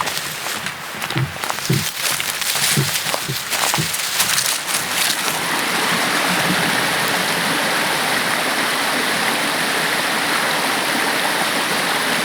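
Forest stream in Tuscarora State Forest, a steady, loud rush of flowing water filling the scene, with a few brief crunching footsteps or snapping twigs at the start before the water dominates alone.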